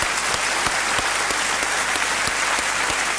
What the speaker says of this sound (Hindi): तालियों के साथ इनका अभिनंदन किया जाए